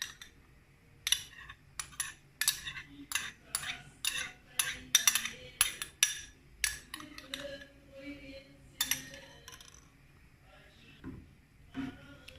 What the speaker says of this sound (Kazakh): Енді тағы да жақсылап араластырамыз.